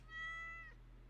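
A single short meow from a cat in the Stardew Valley video game, one clear, quiet, rising-and-falling cry lasting under a second over a low steady hum.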